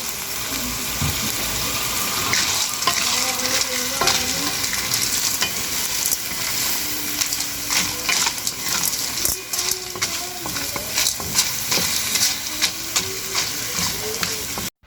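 Snails fry in a pan with seasoning while being stirred, a continuous loud sizzle with frequent scraping and clattering stir strokes close by, running steadily throughout.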